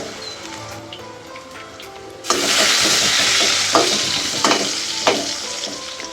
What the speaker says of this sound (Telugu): ఆనియన్స్ తొందరగా వేగుతాయి ఒకసారి కలుపుకొని వదిలేసేయాలన్నమాట అవే వేగుతాయి మంచిగా